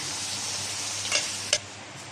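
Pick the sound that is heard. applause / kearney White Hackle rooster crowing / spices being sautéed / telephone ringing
spices being sautéed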